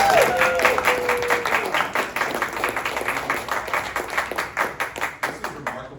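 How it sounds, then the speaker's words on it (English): Audience at a city meeting gives a round of applause, with clear individual claps mixing into steady, fairly close clapping that thins out toward the end; a brief voice or squeak is faintly heard at the start. "Can we give Camille a round of applause?"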